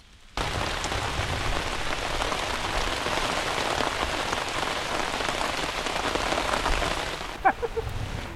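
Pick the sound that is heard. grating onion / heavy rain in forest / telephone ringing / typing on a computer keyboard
heavy rain in forest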